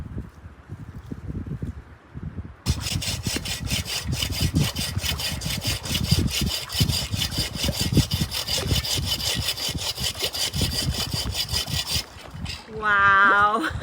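A hand saw fitted with a new blade cuts through dry wood at a campsite, giving steady, rapid rasping strokes that run continuously and close up for about ten seconds after a quieter start.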